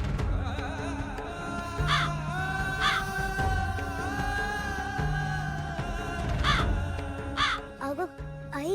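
A crow caws in short harsh bursts at irregular intervals, fairly close, over a steady low background of music and ambient noise.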